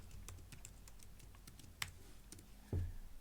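Several sparse keystrokes tapped on a computer keyboard while entering a password, quiet and close, with a louder thump near the end and no talking.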